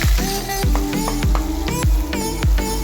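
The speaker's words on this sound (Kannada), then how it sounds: "ಒಂದು ಪ್ಯಾನ್ಗೆ ಸ್ವಲ್ಪ ಎಣ್ಣೆ ಹಾಕ್ಕೊಂಡಿದ್ದೀನಿ ಅದು ಮೇಲೆ ಈರುಳ್ಳಿ ಪೇಸ್ಟನ್ನ ಹಾಕ್ಕೊಳ್ತೀನಿ" Onion paste sizzling loudly in hot oil in a pan, a strong close crackle with repeated sharp clanks of a spoon against the pan.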